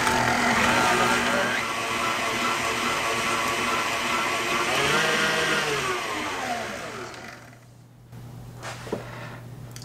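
An electric stand mixer kneading sourdough cinnamon roll dough, with a steady loud motor whir and shifting pitch that drops off near the end, followed by a few faint clicks.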